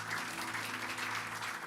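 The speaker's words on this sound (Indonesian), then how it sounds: "Kasih tepuk tangan buat Tuhan Yesus kita." Church congregation clapping and applauding during an online worship service, a steady dense wash of hand claps at moderate distance that holds evenly throughout without voices.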